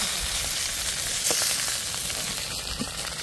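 Potatoes fry in hot oil left from frying snakehead fish, giving a continuous dense sizzle and crackle with a few faint stirring sounds.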